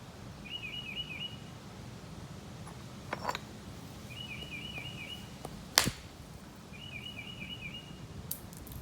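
A bird outdoors repeats a short, high chirping phrase three times at a moderate distance over a low rumbling background, with a few sharp knocks and clicks between the calls.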